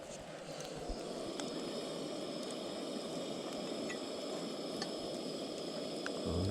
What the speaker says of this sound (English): Potatoes are boiling.